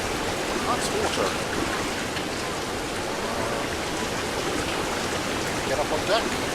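In the video game Eastshade, water floods into a ship with a steady, dense rushing and splashing that holds at an even level from start to end.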